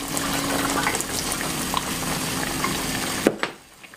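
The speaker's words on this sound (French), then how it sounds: "Je rajoute mes pois chiches." Chickpeas go into a chicken tajine with olives and preserved lemons after 40 minutes of cooking, where it has been simmering with a steady bubbling, sizzling wash; a brief knock near the end is followed by the sound dropping away.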